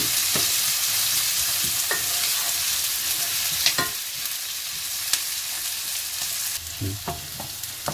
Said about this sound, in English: We will cook it for around 5 to 10 minutes until the onions are brown in color.